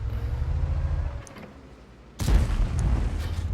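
An M46 Patton tank battle in a video game, with a low rumbling engine drone that fades, then a sudden heavy artillery boom and a rolling, crackling aftermath.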